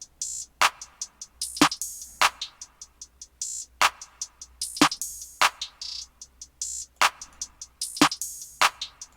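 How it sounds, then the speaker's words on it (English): A programmed drum beat with sharp snare and kick hits, busy hi-hat ticks, and quick rolls, played alone at moderate volume. "And the second drum pattern is gonna sound like this."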